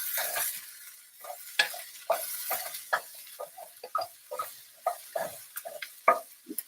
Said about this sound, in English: the onions are slowly becoming caramelized and brown